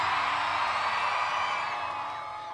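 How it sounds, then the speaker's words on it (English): A concert crowd at the Galaxy K Day stage show screams and cheers in a loud, sustained roar that fades slightly toward the end. "If you love KFM, scream loudly."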